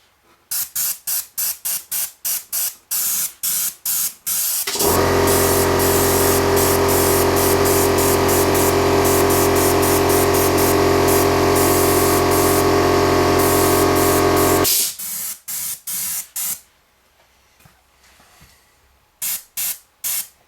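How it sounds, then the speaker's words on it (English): An airbrush spraying paint on a model railway layout hisses in one long continuous spray lasting about ten seconds, framed by rapid clicking bursts before and after. "So airbrush time, and spray away."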